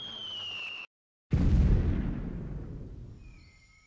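An artillery shell from a fire-for-effect strike explodes in the video game Delta Force Land Warrior: one loud, close blast after a brief silence, followed by a long, fading rumble.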